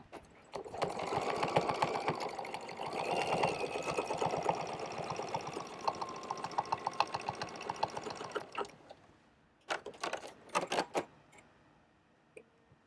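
A sewing machine stitching quilted ovals runs in a steady fast rhythmic whir for about eight seconds, then stops, followed by a few short bursts of stitching and quiet pauses.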